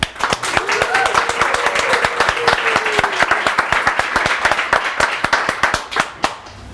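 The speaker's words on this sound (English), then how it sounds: "Please, guys, give Nic a big round of applause." An audience at a design systems talk applauds a speaker, crisp close hand claps in a dense continuous ovation, with a faint voice briefly heard under it.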